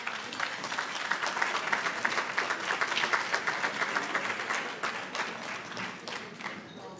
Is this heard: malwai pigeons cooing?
no